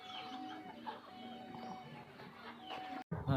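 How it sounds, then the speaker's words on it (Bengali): Native country chickens cluck softly while drinking water, with low, faint murmuring calls throughout and a sudden louder flurry of sound at the end. "দেখেন পানি দেওয়ার সাথে সাথে মুরগিগুলো সব পানি খাচ্ছে"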